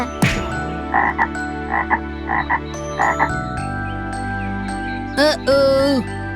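Cartoon frog croaking in an animated children's story, several loud close croaks in short bursts with chiming musical notes, ending in a long drawn-out croak.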